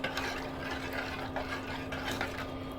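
Custard cream for semai is stirred in a pan, a soft, continuous swishing and scraping with a faint steady hum underneath.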